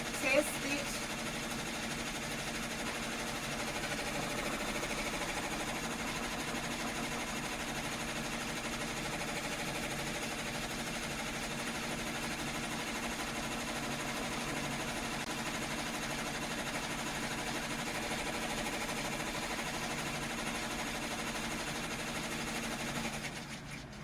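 A sewing machine runs a test design on fabric with a steady, even mechanical whir that continues without a break for the whole stretch, moderately quiet.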